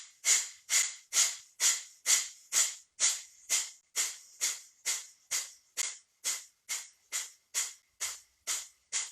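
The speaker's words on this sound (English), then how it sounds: "We're going to find our breath of fire. And this time we're going to do it for 40 breaths." Breath of fire yoga breathing: rapid, forceful belly-pumping exhales through the nose, about twenty sharp evenly spaced puffs in a steady rhythm, close and clear with no talk.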